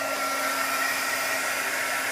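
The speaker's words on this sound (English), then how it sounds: "I also dried this with my heat tool" A crafting heat tool blowing hot air to dry ink on a handmade card, a steady close whirring roar that runs without a break from start to finish.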